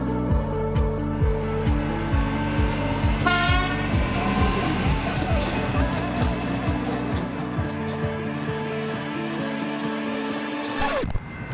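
A Melbourne Metro suburban train passes close by, wheels clacking in a steady rhythmic beat with a brief horn toot, then the rumble fades and a sharp noise cuts in at the end.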